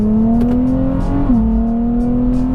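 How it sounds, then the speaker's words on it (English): Tuned 2024 Nissan Z Nismo engine held at a steady high rev in third gear, with a sharp instant shift dip mid-way before the drone resumes, loud and close with no talking. "That was just third gear, but you hear how instant the shifts are."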